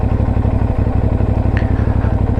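CFMoto 450NK motorcycle engine idling up close, a loud, even low-pitched pulsing beat with a steady rhythm and a faint clatter, heard alone with no talking.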